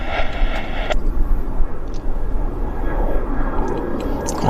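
A United airliner takes off from Vancouver airport and climbs away, its engines giving a steady broadband roar that stays fairly loud throughout, with no talk.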